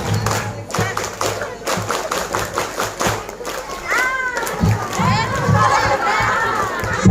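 Kindergarten children perform the scout rhythmic clap at a school report-card event, with bursts of patterned clapping and thumps amid a noisy crowd of shouting young voices and an adult talking over them.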